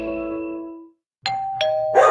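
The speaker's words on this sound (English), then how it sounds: "It's another roof gypsy ringing the doorbell." A two-tone doorbell chimes indoors, ringing twice in quick succession after a fading earlier tone, clear and close with nobody speaking.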